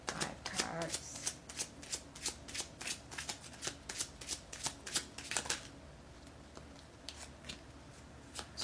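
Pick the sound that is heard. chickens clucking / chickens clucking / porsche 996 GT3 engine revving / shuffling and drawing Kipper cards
shuffling and drawing Kipper cards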